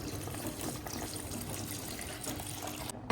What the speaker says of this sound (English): Pour in water.